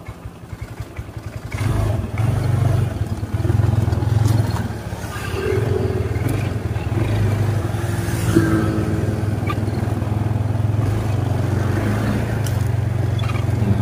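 A Honda Vario scooter that runs sluggish, weak and rough has its engine running close by, a steady low droning idle that swells slightly as the throttle is opened, without talk.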